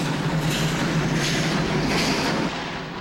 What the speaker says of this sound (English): As the locomotive rumbles through rugged terrain, you will experience the splendor of the Black Hills.